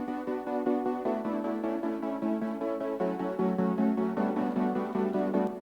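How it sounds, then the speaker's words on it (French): Sustained synth pad chord with a rhythmic LFO pulsing its volume and tone in steady repeating beats, loud and alone throughout, shifting chords partway. "Et donc avec le LFO, ça sonne comme ça."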